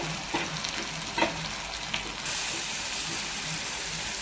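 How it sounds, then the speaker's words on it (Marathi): Blended tomato gravy sautés in hot oil for a spicy chicken masala, with a few soft stirring scrapes and then a loud, even crackling sizzle that swells halfway through and holds steady. "ती घालतो एक दोन मिनटं छान परतून घेऊया तेल सुटेपर्यंत"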